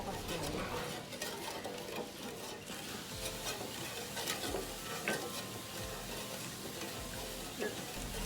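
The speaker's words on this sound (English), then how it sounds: "continue to stir the syrup for 3 to 5 more minutes" Palm sugar syrup stirred in a pot over low heat, a steady bubbling hiss with occasional scrapes and clicks of the spoon, continuous and close with no talking.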